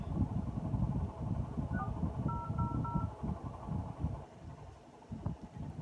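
A phone keypad sends a short run of touch-tone dialing beeps, a few quick evenly spaced tones heard faintly over a low rumbling wind-like background.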